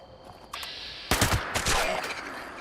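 Gunfire from a weapon in the Fallout 76 video game: a short burst of rapid, loud shots cracking out after a quieter lead-in, with a few following reports trailing off.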